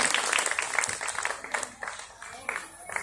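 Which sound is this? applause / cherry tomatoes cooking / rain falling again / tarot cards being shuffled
applause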